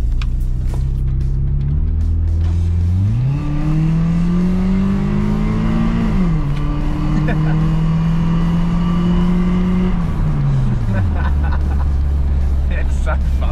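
A Nissan S13 engine accelerating on the road, loud and steady from inside the car as the revs rise and fall through several gear changes.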